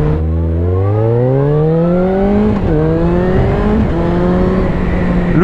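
Suzuki GSX-F 650 four-cylinder motorcycle engine revving loudly and close, the pitch climbing smoothly, briefly dipping, then holding at a steady high drone.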